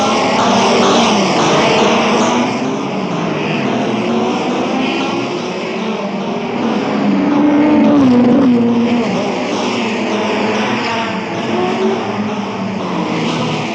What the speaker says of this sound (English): You can feel the tension in the air as the cars rev up to the starting line.